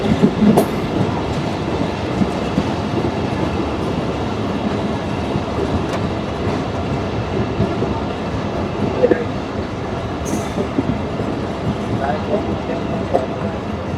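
A Mongla commuter train rolls into Fultala railway station in Khulna, a steady loud rumble of carriages with faint rail clicks and occasional brief metallic squeaks throughout.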